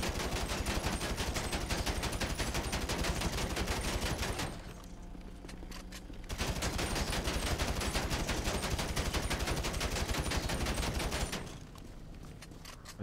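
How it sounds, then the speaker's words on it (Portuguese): Sustained rapid machine gun fire in the GTA V video game, a dense rattling burst running for several seconds, a short pause, another long burst, then a second lull. "Cara, vai ser na base da metralhadora mesmo"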